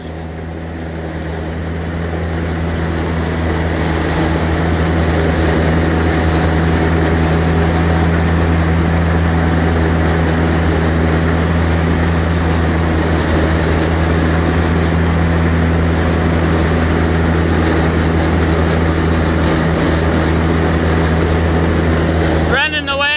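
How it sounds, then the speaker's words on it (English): A tractor engine held at about 1600 RPM pulls a 16-foot hay wagon while making haylage, giving a loud, continuous, steady droning hum with strong low harmonics that barely varies from start to finish. "got tractor set at about 1600 RPM"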